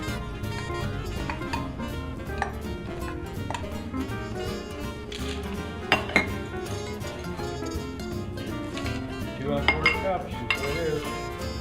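Crab cake mixture seasoned with pepper and cayenne is worked together in a bowl, with steady clinks and scrapes of a utensil against the dish and a few sharper knocks, close and moderately loud.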